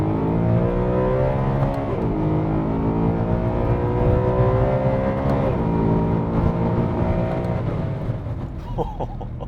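A BMW E92 M3 with its V8 engine and 7-speed DSG gearbox being driven, a loud, smooth engine drone heard from inside the car that rises in pitch with quick drops at gear shifts.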